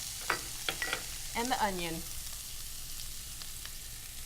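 Shredded carrots, zucchini and onion sizzle and get stirred in a hot pan, a steady soft crackle that continues after a brief spoken phrase at the start.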